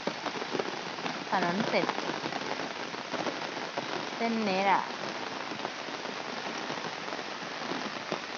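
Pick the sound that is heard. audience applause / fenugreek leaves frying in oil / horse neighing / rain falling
rain falling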